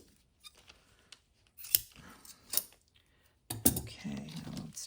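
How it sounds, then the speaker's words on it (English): Scissors snip through part of a cereal box junk journal in a few short, separate cuts, close by, with a quiet rustle between the snips and a louder crunchy burst of handling near the end. "I'll just cut that part off."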